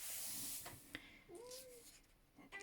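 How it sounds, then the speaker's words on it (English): A pet cat meows faintly in the background of a quiet room, giving one drawn-out rising and falling call among soft shuffling and light noises. "I do apologise for my cat in the background."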